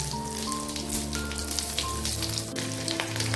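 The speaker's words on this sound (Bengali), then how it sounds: "গোটা গরম মশলা, শুকনো লঙ্কা, তেজপাতা, সামান্য পরিমাণে জিরে গোটা দিকে চলে যাবে।" Whole garam masala, dried red chillies, bay leaves and cumin seeds fry in hot mustard oil, a close, steady crackling sizzle that continues without a break.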